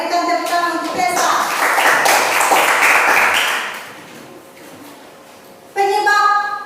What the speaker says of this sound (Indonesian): berikan tepuk tangan untuk Tessa